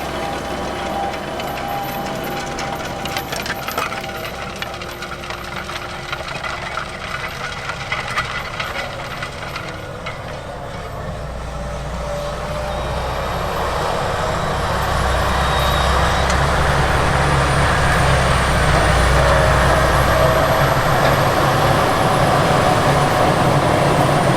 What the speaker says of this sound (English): let's head out to the field so you can see and hear all this tillage action